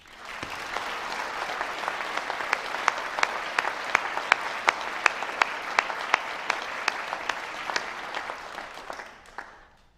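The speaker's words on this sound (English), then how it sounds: "Please join me in recognizing these students with your applause." Sustained audience applause at a university commencement ceremony, a dense, steady wash of many hands clapping for about ten seconds, with a few sharper individual claps standing out before it fades at the end.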